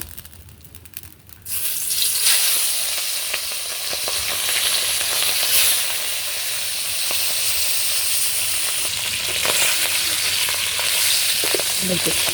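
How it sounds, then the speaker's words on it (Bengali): A fish head drops into hot oil in a pan and sets off a loud, bubbling sizzle that holds steady for several seconds, with occasional pops and crackles and no talking. "চুলাতে তেল গরম হয়ে গেছে, এখন মাছের মাথা দিয়ে দিব।"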